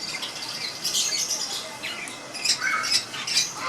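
Pet birds in a cage squawk and chirp repeatedly in bright, overlapping bursts, close and fairly loud, with no talking.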